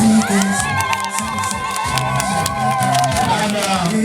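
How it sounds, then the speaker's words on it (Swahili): A crowd cheering and shouting at a couples' event, children's voices among them, loud and sustained throughout, with someone talking over the noise and music beneath. "Makofi mengi sana kwa siku ya leo."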